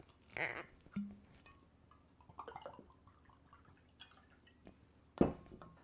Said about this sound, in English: this one, add a little bit of vodka